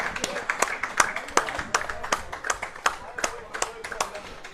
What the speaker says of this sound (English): some cheering for the teams coming off the field